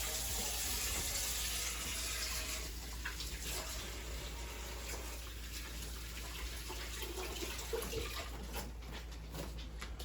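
Tap water runs steadily into a sink for hand washing, a continuous close hiss with slight splashing variation and no talking.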